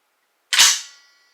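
A locking holster for a Taurus pistol releasing when pressed with a fingertip gives a single sharp, loud click or snap close by, decaying within half a second in a quiet room.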